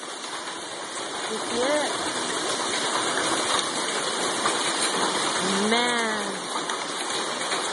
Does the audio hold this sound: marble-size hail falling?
yes